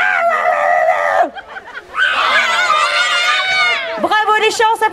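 Children at an agricultural fair in Château Queyras imitate an angry cat together, loud yowling, wailing voices rising and falling over about five seconds, close up.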